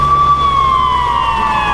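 An ambulance siren wails loudly and steadily in an Ilocano drama scene, its tone gliding slowly downward as it holds close and continuous without pause.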